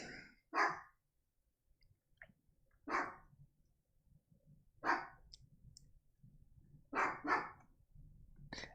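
A pet dog barks somewhere inside a home. Several sharp, separate barks come in uneven bursts with quiet gaps between them, some single and some in quick pairs, fairly close by.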